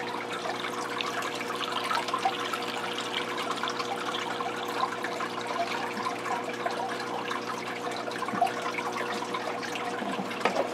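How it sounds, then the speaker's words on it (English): Water from a bucket pours into a brackish aquarium during a water change, a steady, continuous splashing gush that holds at an even level for about ten seconds, with no speech. "take the bucket when I'm down to the last little bit, and I do go ahead and pour that in"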